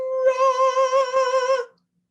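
A young girl sings alone in an opera style in the shower, one sustained wavering line of clear tones with vibrato for about a second and a half, close and fairly loud, then it stops.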